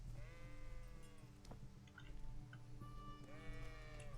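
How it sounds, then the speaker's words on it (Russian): Sheep bleat near a sheepfold in the video game Kingdom Come: Deliverance, two drawn-out wavering calls at the start and end with a brief pause between, over a low, steady ambient hum. "Так, где тут должны быть овцы?"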